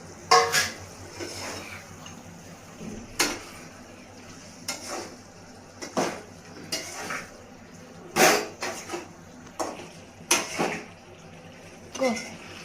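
Fried paneer tipped into a sabzi in a pan, with repeated clanks and scrapes of a utensil against the pan at irregular intervals over a faint low background hum.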